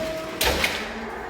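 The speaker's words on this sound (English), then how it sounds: "Automatic doors." Automatic doors opening at a building entrance, a short mechanical whoosh and slide with a soft click, heard close against a quiet background hum, with no talking.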